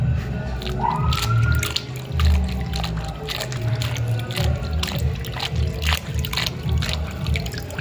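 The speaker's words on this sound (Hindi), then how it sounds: "हम इसको अच्छी तरह से धोएंगे ताकि इसमें से जो भी धूल मिट्टी है वो अच्छी तरह से साफ़ हो जाए" A thorny plant is washed clean of dust and soil in water, with continuous splashing, dribbling and trickling close by and a few brief drips, moderately quiet and with no voices.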